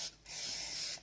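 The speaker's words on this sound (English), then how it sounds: "you can give it a little bit of spray too." Two close, sharp spray bursts mist water onto bread dough, a short hiss followed by a longer steady one, with quiet between them.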